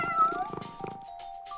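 A cartoon cat gives a short high meow with wavering pitch, close and clear over light background music.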